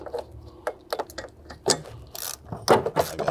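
A ratchet works a 10mm bolt holding the air filter to the shield on a VW GTI, giving bursts of close, quick clicking with short pauses between runs of turns.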